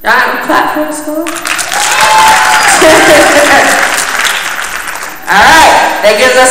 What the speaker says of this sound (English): Y'all clap for us, school?